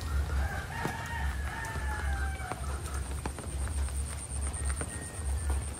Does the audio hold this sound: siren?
no